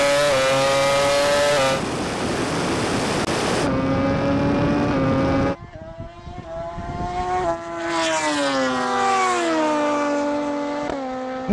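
A MotoGP motorcycle and a Rimac Nevera electric car drag racing from a rolling start, with a loud high-revving bike engine climbing through gear changes next to a rising electric whine, close and continuous with no talking.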